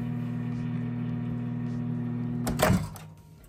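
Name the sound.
microwave oven running while cooking hilsa fish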